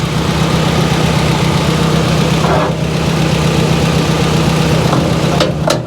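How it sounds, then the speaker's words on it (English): A 1949 Willys jeep engine idles loudly and steadily up close, a low rumbling throb with a few faint clicks and rattles over it. "This engine runs amazing."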